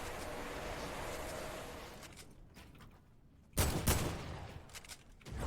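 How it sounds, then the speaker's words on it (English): A grenade launcher fires in a video game: a rough burst of gunfire-like noise fades out, then a sudden loud blast hits partway through, followed by smaller cracks. "I'm gonna nade launch both these guys here."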